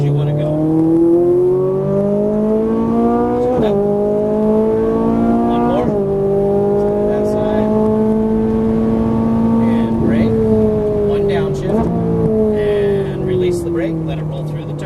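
Ferrari 458 Italia on a Las Vegas race track, its engine revving loud and close, pitch rising through each gear and dropping at shifts, with an instructor talking over it throughout.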